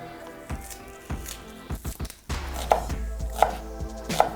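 Knife chopping a sweet red onion finely on a board, close and crisp, with a few scattered cuts early on, then steadier, heavier chops toward the end.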